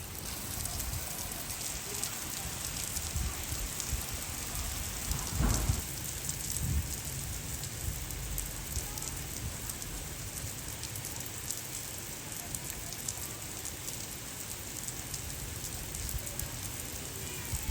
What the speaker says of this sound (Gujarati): પણ વરસાદ ફૂલે ફૂલ ચાલુ થઈ ગયો